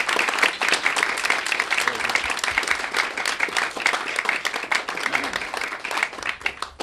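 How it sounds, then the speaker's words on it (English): An audience at an annual meeting gives a speaker a round of applause, loud, crisp and continuous clapping from many hands that carries on steadily for several seconds. "let's hear a round of applause"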